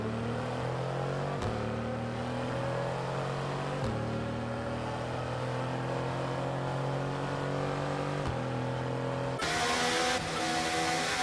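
Formula 1 cars in the F1 23 game pulling away after a safety car period, a steady high engine whine with gear-shift drops every couple of seconds and a louder burst of revving near the end.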